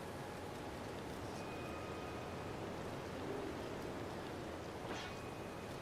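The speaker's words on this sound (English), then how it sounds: "I'm getting nothing but rain right now." Soft, steady rain hissing in the game Zelda Breath of the Wild, a faint, even wash of noise with a couple of small chimes drifting over it and no talk.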